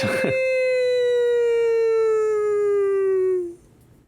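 A person's voice imitates a tornado siren, holding a long steady wail that slowly falls in pitch before cutting off near the end.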